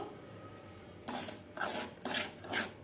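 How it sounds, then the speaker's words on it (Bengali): Semolina is stirred and fried dry in an aluminium bowl, giving quiet rasping scrapes of a utensil against metal in several short strokes separated by brief pauses. "তো সুজিটা এখন আমি একটু ভাজবো।"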